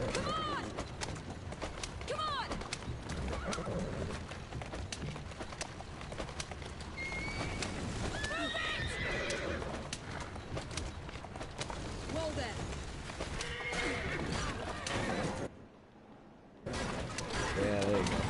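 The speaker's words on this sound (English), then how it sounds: "Thank God for carriages." Clip-clop hooves and rolling wheels of a horse-drawn carriage in the video game Assassin's Creed Syndicate, steady and busy, mixed with game ambience and someone talking over it, with a brief dropout near the end.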